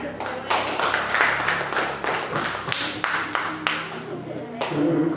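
In a classroom, a group of pupils claps hands together in a lively, uneven patter of close claps lasting several seconds, mixed with children's voices chattering over it.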